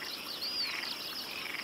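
A small Mediterranean tree frog calls in reed beds at night, a steady, dense, high rasping trill held continuously and loud throughout.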